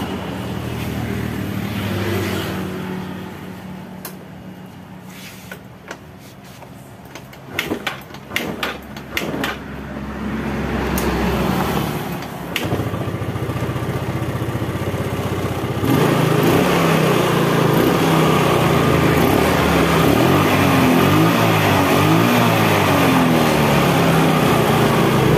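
A Yamaha Mio scooter with a repaired carburetor needle idles unevenly, blips in short bursts, then holds a loud, steady high rev close by.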